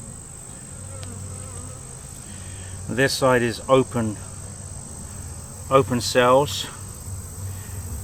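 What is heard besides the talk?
honeybees and drones buzzing during hive inspection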